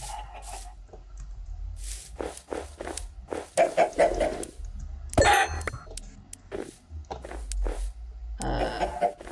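Chickens in Minecraft give short, scattered clucks and squawks in a survival game, each a separate close burst with quiet gaps between them.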